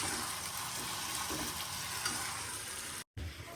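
Spices sauté in a pan for chicken kanti with a dense, even sizzle and faint stirring scrapes. The frying carries on steadily at low volume, with one brief cut to silence near the end.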